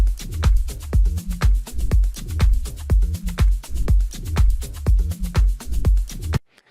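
A looped groove of punchy tom hits and deep bass notes repeats in a steady, driving rhythm, then cuts off abruptly at the end.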